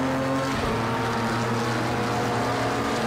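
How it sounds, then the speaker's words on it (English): An LMP2 race car engine at full throttle in the Project Cars 2 racing game, turbocharged, a loud sustained drone that rises in pitch and holds steady, with no talk over it. "Going full throttle here."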